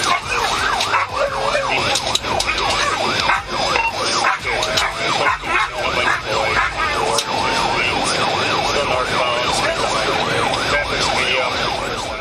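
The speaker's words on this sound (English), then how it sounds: "A K-9 deputy activated emergency lights and sirens" Police car siren wailing continuously as a K-9 deputy gives chase in a high-speed pursuit, a loud, steady rising and falling tone over road and engine noise.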